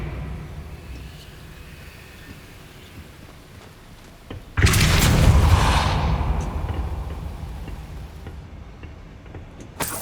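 In Hogwarts Legacy, a Depulso force spell fires as a sudden, loud whooshing blast after a quiet stretch, then fades over a few seconds into low background ambience.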